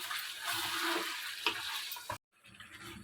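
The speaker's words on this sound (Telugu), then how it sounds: "సాల్ట్ వేసుకున్న తర్వాత మళ్ళీ ఒక్కసారి తిప్పుకోండి, సిమ్లో పెట్టుకోండి" Chicken curry being stirred in a pan right after salt goes in, a steady scraping sizzle of masala and meat close by that cuts off briefly near the end, then resumes more quietly.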